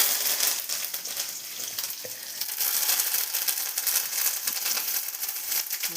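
Shallots and curry leaves fry in hot oil for sambar, giving a loud, steady, close sizzle with crackling spits and occasional stirring throughout.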